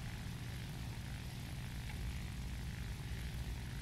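Steady propeller engine drone of a bomber aircraft in a video game, a continuous loud hum with no pauses and no talking.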